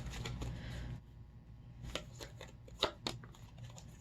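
Tarot cards shuffled by hand for a reading, a quiet close riffle followed by a few soft flicks and taps of cards being handled and drawn.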